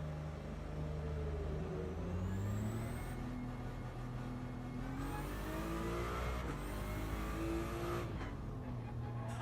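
A race car engine revs and drones steadily in a racing video game, pitch climbing and falling through gear changes, loud and continuous throughout with no talking.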